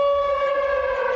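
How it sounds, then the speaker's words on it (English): An air raid alert siren in Mezhova, a town a few kilometres from the front line, wails as a steady sustained tone with strong harmonics. It is loud and continuous with no talk over it. "Mezhova greets us with the sound of a siren, signaling yet another air raid alert."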